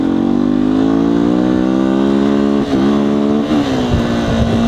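A 2019 Beta 125 RR S two-stroke dirt bike engine revs hard and close, its loud buzzing pitch holding high, dipping briefly and climbing again, then settling near the end.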